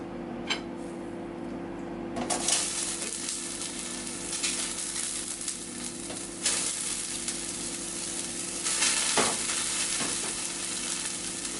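Meat browning in a little oil in a pan gives a loud, steady sizzle that swells and flares in bursts, with no one talking.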